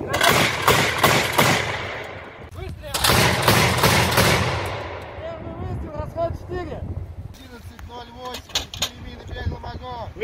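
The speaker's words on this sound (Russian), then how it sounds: "Миномет! Первый выстрел, расход 4!" A 2B9 Vasilek automatic mortar booms in a rapid volley of repeated blasts, followed by rumbling echoes and scattered clanks, with voices shouting nearby in Russian.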